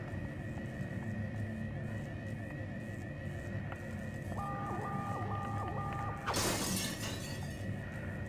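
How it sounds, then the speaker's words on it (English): Glass wall shattering in the video game System Shock 2, a sudden bright crash near the end that follows a steady mechanical game hum and a short beeping tone pattern. "Yep, another glass wall to shatter."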